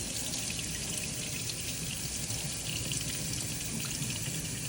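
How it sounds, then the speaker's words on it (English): A custom splint held under a cold running tap, the steady rush of water filling the sink continuously and fairly loud throughout, with no voices. "we're gonna run it under cold water just to get a better mold"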